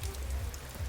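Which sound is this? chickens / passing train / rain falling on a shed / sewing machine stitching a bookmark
rain falling on a shed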